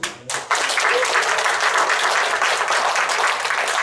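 Applause from the audience at a Korean launch ceremony in Gwangju marking the 160th anniversary of Koryo-saram and Korean migration, a steady crowd clapping that starts abruptly after a brief quiet and carries on evenly, fairly close.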